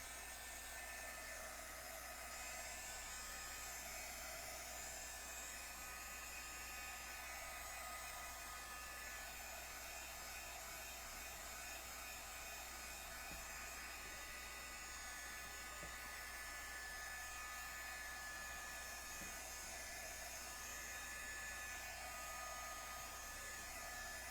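A hair dryer blows steadily on craft tags, a continuous, even whooshing whir that holds at a constant level for the whole stretch with no talking.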